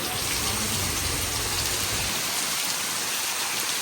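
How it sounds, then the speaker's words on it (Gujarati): Heavy rain pours steadily onto a road, a dense, loud roar of drops and rushing water filling the whole stretch without pause. "જુઓ તો ખરે તમે આ વરસાદ"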